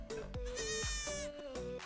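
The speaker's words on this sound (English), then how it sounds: "Goats." Goat bleating sound effect, a few loud wavering bleats in quick succession, close and harsh, with no talk over them.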